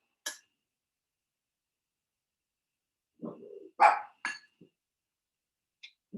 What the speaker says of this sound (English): You hear the dogs bark, you hear the noise of the house.